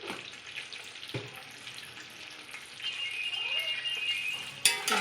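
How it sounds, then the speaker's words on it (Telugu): Eggs frying in a pan with turmeric, chili and salt, a soft steady sizzle that swells in the second half, with brief clatters as they are moved about. "ఉప్పు, కారం అన్నీ ఎగ్స్కి పట్టేటట్టు కొంచెం ఫ్రై చేసుకుందాం ఎగ్స్ని"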